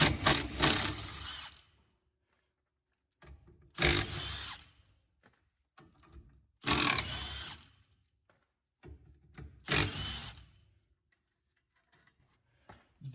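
Ratchet wrench removing 15mm bolts from the drum brake backing plate on a 1968 VW Bay Window bus, four separate bursts of rapid clicking spaced a few seconds apart with quiet between them.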